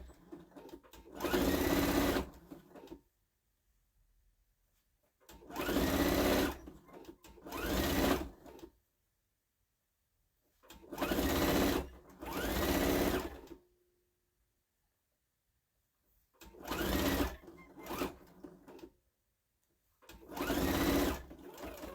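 A sewing machine stitches quilted Santa placemats in several separate bursts of a few seconds each, with quiet gaps between them, close and steady, no talking.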